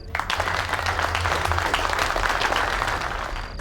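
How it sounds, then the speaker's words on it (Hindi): Applause from an audience gathered at a family event, a dense burst of clapping that rises quickly and holds steady at fairly loud level, tapering slightly at the end. "एक बार तालियां हो जाए भाई"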